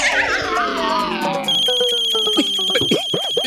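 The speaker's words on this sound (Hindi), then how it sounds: "बापूजी फोन आ रहा है, फोन।" A household phone rings with a steady electronic tone and repeated beeps, mixed with voices speaking and other scene sounds that partly overlap the ring.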